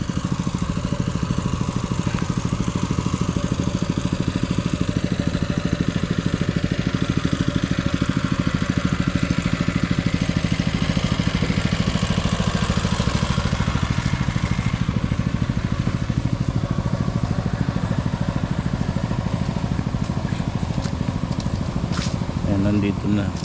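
A grass cutter engine runs with a steady, unbroken mid-pitched drone from start to finish, while people talk over it.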